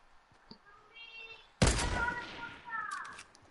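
A single sharp sniper rifle shot in a video game cracks loudly out of near quiet and decays slowly, followed by faint tonal game sounds and a brief voice.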